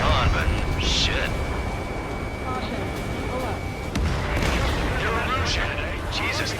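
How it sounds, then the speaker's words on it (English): Rumbling gunfire and explosions from an aerial battle in Ace Combat 7 roll on continuously as a dense, loud wash, with radio chatter and voices over it. "they're firing at each other"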